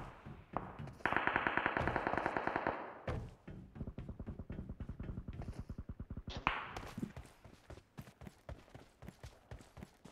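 An M4 rifle in a video game fires in rapid bursts of sharp, evenly spaced shots, some sustained and some broken into shorter runs, loud and close with a few heavier thumps mixed in.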